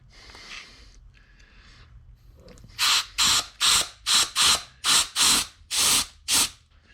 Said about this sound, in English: you can hear the the overrun clutch activating